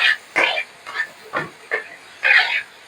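A spoon of water hisses and sizzles in a hot pan of browning onions, in short repeated bursts of steam, close and fairly loud.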